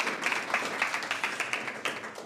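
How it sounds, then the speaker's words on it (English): Audience clapping at a youth entrepreneurship programme launch, a steady crowd applause with distinct individual claps standing out in a regular patter, moderately loud. "Can you please give him a round of applause?"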